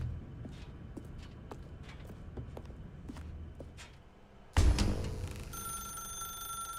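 A telephone suddenly rings loudly in the video game The Stanley Parable, its bright ringing tone cutting in after several seconds of soft, steady footsteps and continuing to the end.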